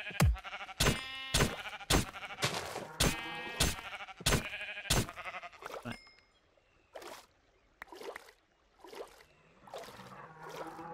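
Sheep in the RLCraft video game bleat over and over in a quick rhythm, loud and close for the first half, then more spaced, fainter calls against quiet background.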